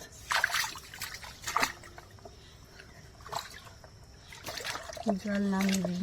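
Fishing net let out into a pond for catla and rohu, heard as trickling and splashing water in irregular bursts, with a voice speaking over it and a steady motor-like hum near the end.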